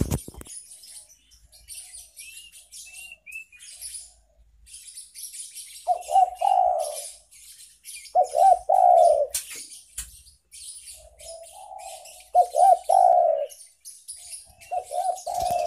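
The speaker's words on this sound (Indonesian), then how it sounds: "kita kasih bonus track suara burung terkukur atau terkuku" A spotted dove coos in repeated soft, hollow phrases, separated by pauses, over faint high chirping from other birds in the background.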